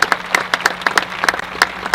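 At a Parkland School District convocation, a round of applause for the band and cheerleaders comes as sparse, close hand claps in an uneven rhythm, over a faint low hum.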